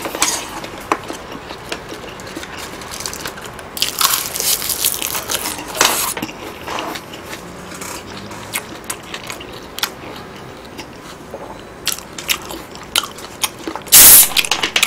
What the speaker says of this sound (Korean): 한 입만 먹을게요